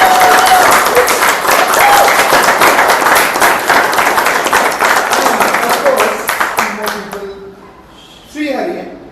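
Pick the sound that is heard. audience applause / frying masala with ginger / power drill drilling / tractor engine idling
audience applause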